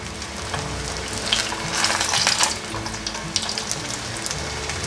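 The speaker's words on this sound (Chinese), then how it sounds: "再继续煎" Tofu fries in a pan with a steady, close sizzle that swells briefly in the middle, with faint crackles and no voices.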